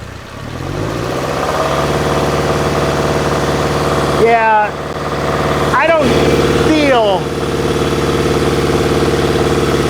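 A car engine idles steadily and then revs up to about 2,000 RPM with a loud, close, sustained drone, heard from under the car in a garage while people talk over it.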